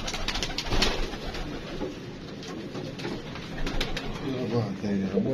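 Pigeon cooing, a golden female pigeon, with soft repeated coos and bird sounds under ongoing background noise; a voice talks intermittently nearby.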